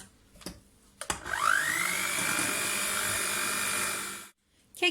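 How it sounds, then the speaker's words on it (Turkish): An electric hand mixer whisks cake batter made with three eggs and two packets of baking powder, a steady whirring drone that starts after a couple of knocks, holds for about three seconds, then cuts off. "2 pakette kabartma tozu kullanıyorum. Ve tekrar çırpacağım."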